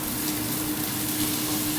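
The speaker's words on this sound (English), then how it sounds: "I'm going to add some butter. Oh. Sheesh, she's sizzling." Butter sizzles in a hot pan on a stove while mushroom and zucchini pasta is being cooked, a steady close crackling hiss with a faint hum underneath and no talking.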